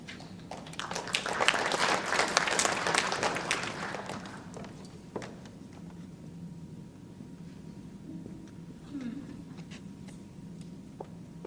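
An audience at a high school science event bursts into applause to welcome a student speaker. The clapping is dense and hearty for a few seconds, then thins out and dies away into quiet room noise.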